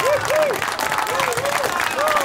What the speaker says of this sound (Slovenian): En aplavz posebej, zdaj, hiter.